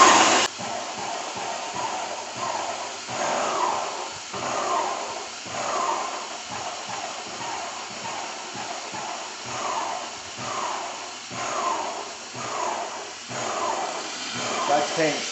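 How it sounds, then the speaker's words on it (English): A Graco airless paint sprayer runs steadily as paint is sprayed into a waste container, giving a continuous broadband hiss with rhythmic surging pulses from the pump; a voice talks over it. "Now spray into the waste thing until paint starts to come out."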